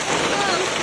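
Heavy rain pours down steadily in a brief, loud, dense wash with no gaps, recorded close by.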